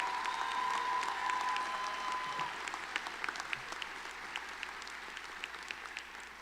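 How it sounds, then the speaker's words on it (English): Commencement audience at a College of Education fall graduation applauding, a dense spread of clapping that starts fuller and thins into scattered claps while a steady tone hangs briefly early on. "Let's give a cheer of applause"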